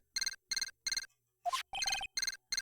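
A transceiver in the Phoenix Wright: Ace Attorney Justice for All video game rings in short repeated electronic chirping bursts, crisp and steady, broken once by a rising two-tone blip before the ringing pattern resumes.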